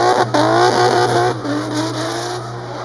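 A race car with a BMW S54 engine roars past at Orange Show Speedway during qualifying, loud and close, its engine note rising and falling through gear changes with a steady drone underneath.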